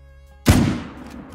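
A single loud .303 British rifle shot fired at a red deer in a hunting video game, with a sharp crack followed by a rolling echo that fades over about a second.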